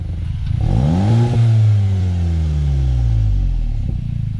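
A VW Mk7.5 GTI engine with a newly installed exhaust rumbles close by, swelling briefly in pitch and loudness before settling back into a steady, deep idle for the rest of the clip.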